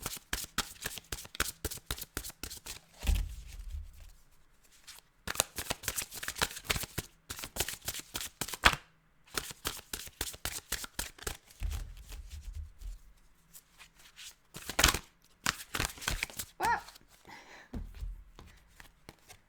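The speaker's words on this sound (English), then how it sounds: "And now I'm using the Archangel Power Tarot cards to just clarify." Archangel Power tarot cards are shuffled by hand at close range in repeated bursts of rapid riffling and flicking, separated by short pauses.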